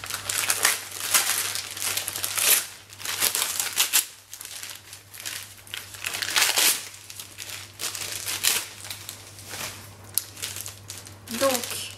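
A Christmas gift package being opened, with wrapping crinkling and rustling in repeated bursts close up, while a person speaks French intermittently over the noise.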